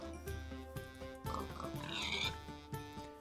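Pigs in Minecraft give repeated short grunting oinks with a steady rhythm, fairly close and mid-level, over a continuous game music background with no talking.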